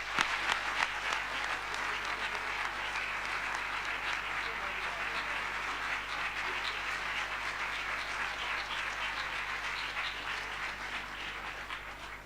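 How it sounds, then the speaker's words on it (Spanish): Large audience applauding Sergio Moro at the end of a panel session, a long even wash of many hands clapping, steady and sustained throughout, with a low hum underneath. "Pues despidamos a Sergio Moro con un gran aplauso."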